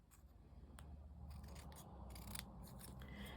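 Scissors snip through card to cut an angled roof shape, giving a few quiet, close crisp cuts with a light rasping scrape and no talk.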